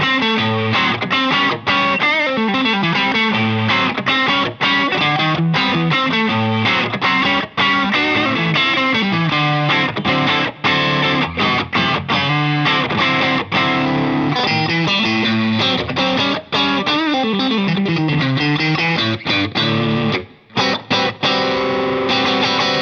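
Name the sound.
distorted electric guitar, throaty strat tone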